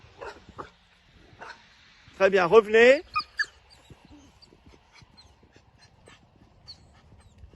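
An American shepherd dog gives a short whining yelp, close by, amid quiet shuffling during a dog training session; a person speaks briefly before it.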